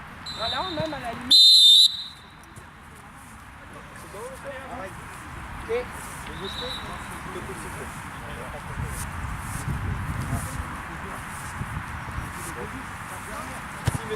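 A single short, loud referee's whistle blast sounds early during youth football training, standing out over a steady outdoor background with voices talking around it.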